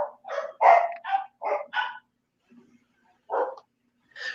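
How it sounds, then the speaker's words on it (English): Dogs bark in a rapid run of six or seven sharp, loud barks, then fall quiet before two more single barks, close and with no talking over them. "My dogs are barking."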